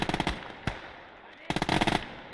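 Short, rapid bursts from a DShK heavy machine gun ring out in a Gates of Hell Eastern Front battle, two loud clusters of fire split by a single shot and a brief lull.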